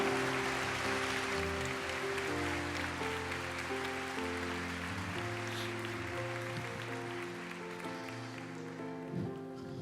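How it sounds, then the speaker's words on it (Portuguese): A church congregation welcomes deacons with a round of applause, dense clapping carried over sustained organ or keyboard chords, gradually fading a little toward the end. "Recebam os nossos queridos irmãos numa salva de palmas."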